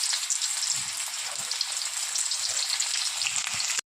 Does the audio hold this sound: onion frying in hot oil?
yes